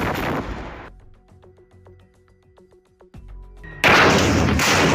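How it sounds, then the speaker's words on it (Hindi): A tank explodes in war footage: a loud opening rumble gives way to scattered sharp cracks and pops, then a sudden, massive roaring blast bursts in and stays loud to the end. "इसके कुछ ही सेकंड में टैंक में एक बहुत बड़ा ब्लास्ट होता है"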